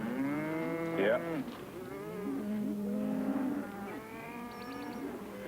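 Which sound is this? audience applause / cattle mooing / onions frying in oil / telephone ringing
cattle mooing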